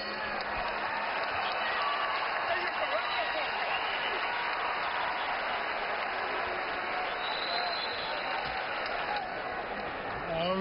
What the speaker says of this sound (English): Crowd is into it now.